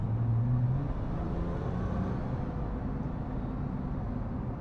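A stock Nissan GT-R accelerating at full throttle with a pedal controller in Sport Plus mode, giving a steady, loud low engine roar that holds for several seconds inside the cabin.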